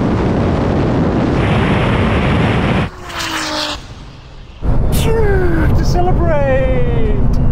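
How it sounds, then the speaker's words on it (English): Drag race launch between a Porsche 911 Turbo S, a roughly 1000 hp Nissan GTR and a rally car: loud, wind-buffeted engine roar at the start, a brief dip, then a surge of revving engines with rising gear-change whines. "Great launch on the Porsche, that shot off."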